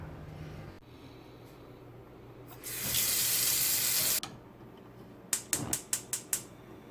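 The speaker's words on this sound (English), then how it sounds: "So let's get some hot water." Hot water gushes from a tap in a loud, steady rush lasting under two seconds and then cuts off abruptly. A quick series of sharp clicks follows.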